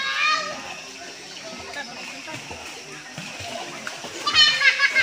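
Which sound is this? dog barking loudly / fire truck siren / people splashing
people splashing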